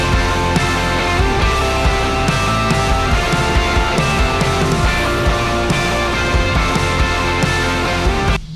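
Loud, dense band mix of distorted electric guitars through real tube amps, with bass and drums, steady hits throughout, playing continuously without vocals.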